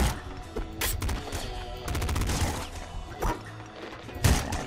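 Rapid bursts of gunfire from a pop gun in the game Nuclear Throne crackle with sharp repeated shots and thuds, fairly loud and uneven in rhythm.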